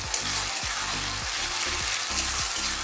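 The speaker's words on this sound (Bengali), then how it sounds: "এইবার আমি যে রসুন, আদা, কাঁচা লঙ্কা বেটেছিলাম দিয়ে দেবো, দিয়ে আর একটু ভাজা ভাজা করবো।" Garlic, ginger and green chilli paste frying in a pan for a green mango chicken curry, a steady close sizzle running throughout with no voices.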